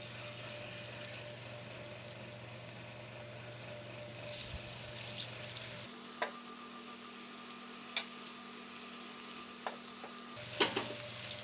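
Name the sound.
fish frying in hot cooking oil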